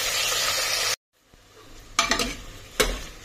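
Grated raw potato cooking in ghee on a low flame for a fasting halwa: a loud sizzle cuts off abruptly, then quieter frying resumes with a couple of distinct spoon scrapes and clinks against the pan.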